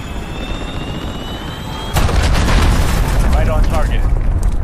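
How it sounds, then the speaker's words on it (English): A cruise missile launches with a sudden loud whooshing roar that cuts in over a steady background hum, then a sustained rumbling blast in a night-mode Modern Warfare multiplayer match. "Cruise missile away."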